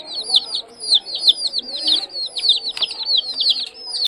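Pigeons crowd close while being hand-fed beside a cage, giving a steady stream of overlapping chirps and twittering calls with soft fluttering and shuffling, fairly loud throughout.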